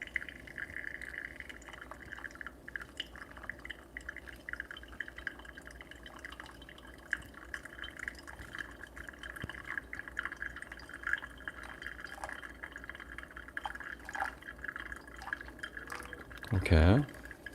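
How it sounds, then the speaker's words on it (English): Hot water trickles in a thin, steady stream into a V60 coffee dripper over the grounds, a soft continuous pour lasting many seconds that ends with a brief knock. "And I'm going to put the rest of the water in."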